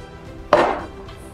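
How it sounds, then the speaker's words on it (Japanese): A kitchen knife scrapes the blood vessel from a whole tuna fillet on a paper-lined cutting board, giving one brief, close scraping cut in a quiet room. "ふいっちゃん、ほら入ってるんで、これを包丁できれいに取ります。"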